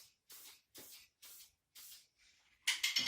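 Short hissing bursts of spray aimed down into the corner of a bathroom shower niche: four brief puffs separated by pauses, then a louder, longer blast at the end.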